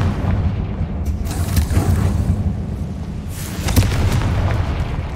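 A Confringo fire spell blasts in the Hogwarts Legacy video game, heard as heavy low booming explosions that rumble continuously for several seconds, with a sharper burst near the end.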